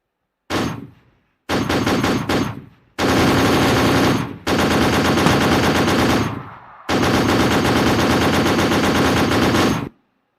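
Machine-gun fire during a counter-terrorism exercise demonstration at a CRPF day parade, five loud sustained automatic bursts separated by short silent gaps, close and alone.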